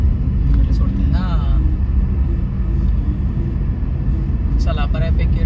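Road traffic jammed in a ghat on a Konkan trip in Maharashtra, heard from inside a mini camper car: a loud, continuous low engine rumble with brief honks, and people talking over it.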